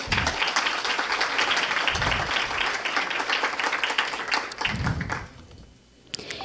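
Loud, sustained applause from an audience at the opening ceremony of an Amazon summit on journalism and climate change, honouring a Goldman Prize winner; dense clapping fills most of the stretch and then thins out near the end.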